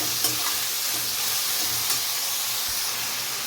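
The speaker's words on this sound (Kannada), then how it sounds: "ಈಗ ಟೊಮೊಟೊ ಹಾಕ್ಕೊಳ್ಳೋಣ. ಈಗ ಅದನ್ನು ಫ್ರೈ ಆಗಲಿ ನೀಟಾಗಿ." Chopped tomatoes fry in a pan as a topping for chapati pizza, giving a steady, close, even sizzle with faint occasional stirring taps and no voices.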